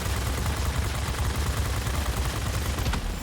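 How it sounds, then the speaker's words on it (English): Machine guns firing from a plane in World of Warplanes, a dense, unbroken rattle of rapid shots held at constant loudness for several seconds, close and without speech. "I have machine guns, buddy."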